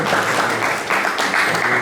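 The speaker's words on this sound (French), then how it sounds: "Applaudissez, professeur Wesmi Wilson Chéri, s'il vous plaît." Audience applause at a Haitian community gathering in France, a loud, steady wash of many hands clapping close by for the whole stretch.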